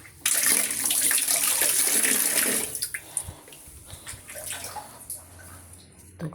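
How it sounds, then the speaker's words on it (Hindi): Tap water gushes loudly into a sink for about three seconds while vegetables are washed, then drops to softer splashes and drips. "धो के लाती हूँ पहले मैं।"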